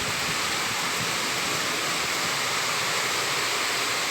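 Heavy rain pours in Maceió near the beach, a dense, loud, continuous hiss of falling water with no break and no voices.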